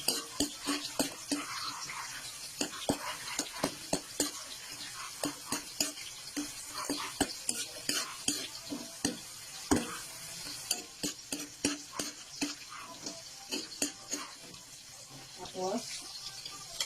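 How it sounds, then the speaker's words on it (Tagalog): Sliced onion rings and garlic frying in fresh oil in a pan, a soft background sizzle broken by frequent sharp clicks and scrapes of stirring and handling, with a voice speaking at times. "maglagay ulit tayo ng panibagong mantika. Sabay ilalagay ulit natin itong hiniwa nating pabilog na sibuyas at bawang."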